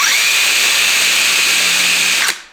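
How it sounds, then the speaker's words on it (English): A cordless drill spinning at 3,850 RPM, emitting a loud, steady high-pitched whir that cuts off abruptly near the end and fades out, with no talking. "I got this drill. This is a fine cordless drill"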